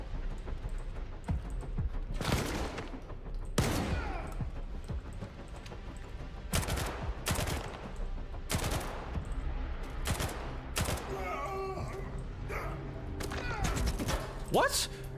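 Scattered gunshots and short bursts of fire during a video game, loud and irregular, mixed with a mechanical clatter and a steady game background.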